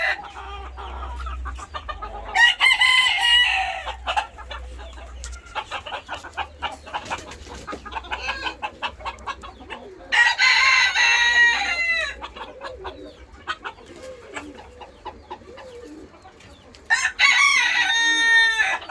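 Roosters crow repeatedly in a farm coop among chickens and pigeons in Bursa, three loud, drawn-out calls spaced several seconds apart, with hens clucking and other birds chattering in between.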